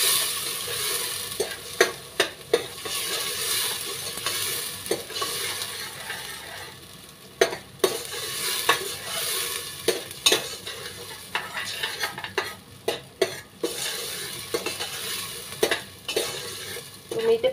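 Green masala paste frying in a pan on the stove, a steady soft sizzle broken by repeated scraping and clinking taps of a spoon stirring against the metal, close and fairly quiet.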